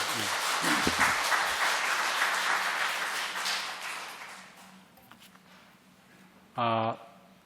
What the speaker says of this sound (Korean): 우리 하나님께 영광의 박수 한번 올려주시죠.